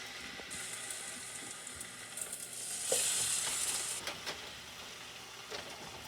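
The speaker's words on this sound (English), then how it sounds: "Now you're going to heat the cooking oil and brown the meat on all sides" Lamb shanks brown in hot cooking oil in a pot, a continuous close sizzle and hiss with occasional faint pops and shifts as the meat sears.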